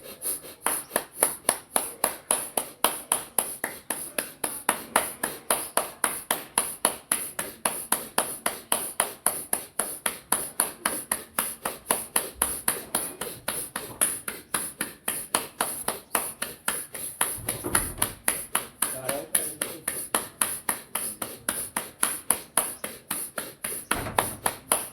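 Steady, rapid hand clapping in a bhastrika breathing exercise, sharp evenly spaced claps about two or three per second continuing without pause, close and fairly loud.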